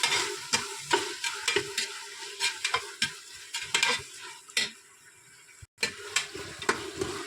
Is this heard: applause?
no